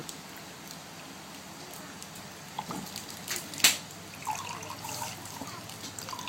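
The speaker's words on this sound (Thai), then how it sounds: "เทน้ำส้มทิปโก้ลงไปเลย" Tipco orange juice pours from a carton into a drink mix, a steady liquid trickle and splash under a faint background hiss, with one sharper clink midway.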